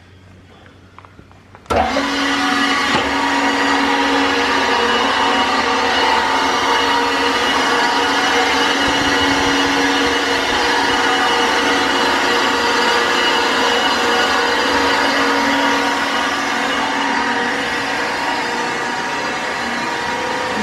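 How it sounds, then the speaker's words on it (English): A 100-gallon Groen twin action inclined agitated kettle with a 100 PSI jacket starts up abruptly after a quiet moment, then keeps up a loud, steady mechanical hum and whir with a faint rumble beneath. "This is the 100-gallon Groen Twin Action Incline Agitated Kettle, 100 PSI"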